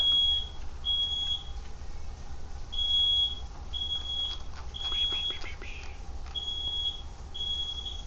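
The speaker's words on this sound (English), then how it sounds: "my wife set off the smoke alarm" A smoke alarm chirps in short, repeated high-pitched beeps with brief pauses between them, over a low background hum.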